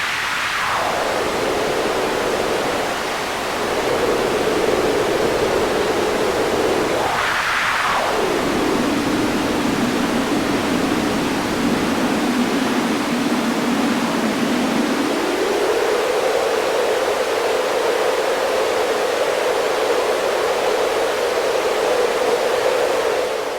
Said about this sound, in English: And high pass kind of sounds like you're in the Arctic.